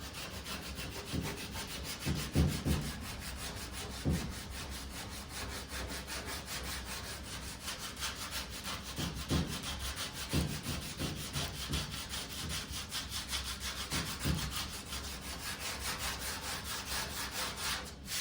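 Steady back-and-forth rasping of a sanding block scrubbing body filler on a lead seam of a 1968 car's quarter panel, continuous and close, with occasional heavier strokes.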